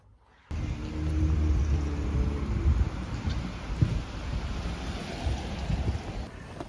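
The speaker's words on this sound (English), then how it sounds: "it is rainy" Steady rain falling outdoors, a dense continuous wash with low rumbling underneath, starting abruptly and holding at an even, fairly loud level throughout with no voices.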